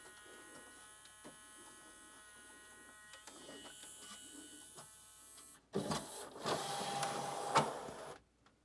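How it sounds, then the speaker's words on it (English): Pioneer CLD-V870 laserdisc player tray mechanism motor whirring, at first a faint, steady mechanical drone, then a brief pause followed by louder, rougher motor running near the end. "Try to open the tray."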